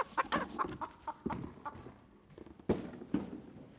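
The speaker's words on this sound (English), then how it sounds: "This is a chicken." A female egg-laying chicken clucks close by in a series of short, uneven clucks and a few louder calls, with no talk over them.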